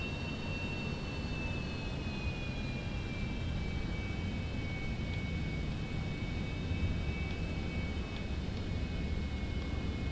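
A Citation 750 jet takes off in Microsoft Flight Simulator 2024 with a steady, loud engine roar under a high whine that slowly drops in pitch, continuous for about ten seconds with no talking.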